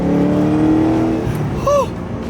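A custom car's engine revs hard up close, a loud, sustained roar with a rising and falling pitch before it drops away.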